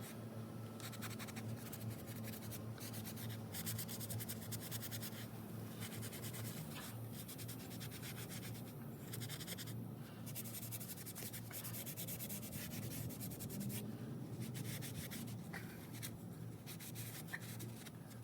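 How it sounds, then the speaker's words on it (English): Rust is scrubbed off a car wheel hub's mating surface, a steady, close abrasive scratching and rubbing in repeated strokes with brief pauses, heard alone. "Even do your hub part here, get all the rust off of that and just clean this up real nice."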